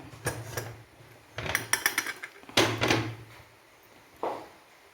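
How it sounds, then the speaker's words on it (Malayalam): A metal pressure cooker lid is fitted and locked shut in a home kitchen, making several sharp metallic clanks and rattles in separate bursts, with quiet gaps between them. "കുക്കർ അടയ്ക്കാം"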